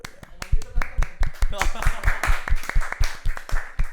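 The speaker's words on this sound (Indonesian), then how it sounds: "tepuk tangan dulu" Rhythmic hand clapping from a few people in a casual talk-show setting, sharp regular claps repeated throughout alongside voices and laughter.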